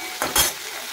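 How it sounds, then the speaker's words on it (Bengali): Chopped tomato frying in a pan during Bengali home cooking, with two short scraping, sizzling bursts from stirring over a steady low background hiss. "এবার টমেটোটাকে একটু বেশ ভালো করে ভাজা ভাজা করে নেবো, টমেটোটা যতক্ষণ না গলে যায়।"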